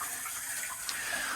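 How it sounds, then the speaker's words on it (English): Water running through blue hoses and into a caravan's hot water unit as it fills, a steady, close hiss and gush with no talking. "So that's just running through there and into the hot water unit and filling it."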